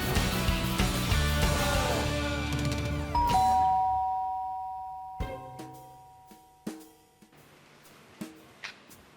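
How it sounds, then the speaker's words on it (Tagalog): A doorbell chimes a two-tone ding-dong, followed by a few faint knocks and clicks. "Buti naman nag-doorbell na kayo."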